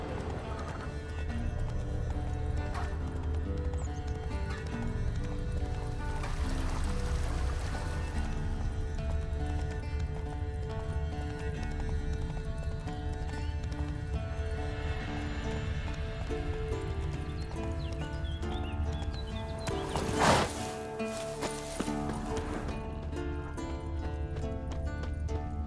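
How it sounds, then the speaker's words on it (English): Roach, Geralt's horse in The Witcher 3, moves with steady clip-clop hooves over a continuous game soundscape of music and ambience, with a whinny partway through. "That's his horse."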